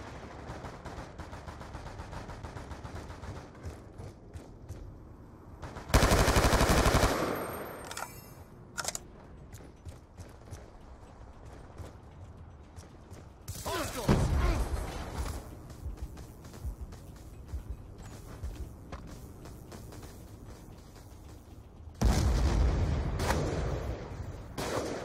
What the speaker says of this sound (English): Stop shooting at me, I'm scared.